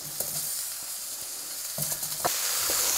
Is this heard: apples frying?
yes